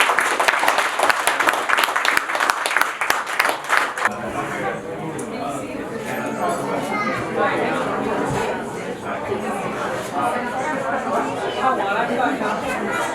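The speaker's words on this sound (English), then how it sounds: "Please clap your hands to the Leo and the Sonia." Wedding guests applaud for the couple Leo and Sonia, with sharp clapping in the first four seconds that fades into steady crowd chatter and murmuring.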